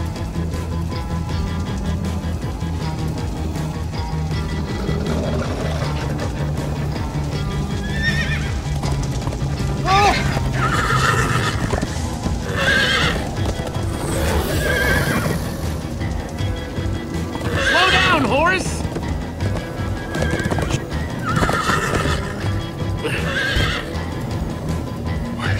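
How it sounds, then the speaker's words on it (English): Horses in the Minecraft video game whinny repeatedly and clip-clop along at a steady gallop, loud and close over a continuous low game backdrop with no talking. "Guys, look! Horses!"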